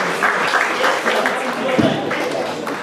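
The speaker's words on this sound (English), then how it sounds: "Give him a round of applause" An audience applauds a cricket all-rounder at a school player draft at St Charles College, a brief burst of crowded clapping mixed with voices that stays fairly even before tailing off.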